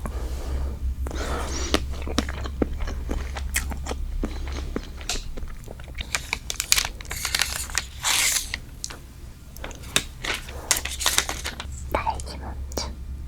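Close-up eating of strawberry desserts, including strawberry cake, macarons and a strawberry shake, with repeated soft bites, crunches and wet chewing over a steady low hum and occasional whispering.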